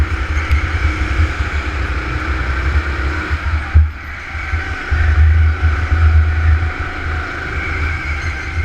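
Kart 38 races on a go-kart track at Full Throttle Florence, its engine droning loud and continuous with a brief lift in pitch and volume midway before pulling hard again.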